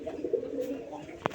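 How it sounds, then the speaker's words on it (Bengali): High flyer Gribas pigeons coo in a low, steady murmur close by, the soft rolling call running for just over a second and ending with a brief sharp click. "এখানে আরেক জোড়া কবুতর আছে, এটা হচ্ছে হাই ফ্লাই গ্রিবাস কবুতর"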